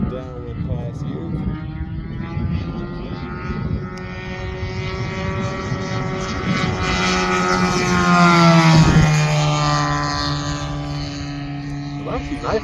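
A radio-controlled Hangar 9 P-51 Mustang model warbird with a 20cc gas engine makes a downwind pass, its loud engine buzz building, peaking, then dropping in pitch as it flies by, with a voice talking alongside.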